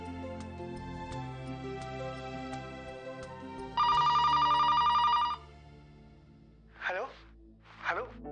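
A telephone rings out on an outgoing call, a bright steady tone lasting about a second and a half over background music, followed by two short warbling electronic blips.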